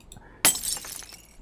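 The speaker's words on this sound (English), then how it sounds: "I heard glass break." Glass breaking in the video game Phasmophobia: a single sudden bright shatter after a quiet start, trailing off into tinkling debris, fairly loud and alone.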